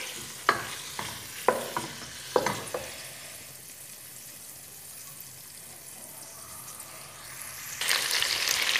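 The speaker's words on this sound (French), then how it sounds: "Je vais faire revenir la viande et la tomate." Meat and tomato sizzle quietly in a pan for a pasta tomato sauce, with several sharp clacks of a utensil against the pan early on and a louder hissing surge at the end.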